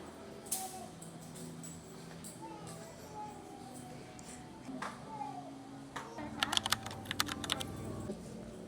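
Computer keyboard typing, faint and intermittent at first, then a quicker burst of louder clicking keystrokes toward the end, with a low indoor background hum and some movement.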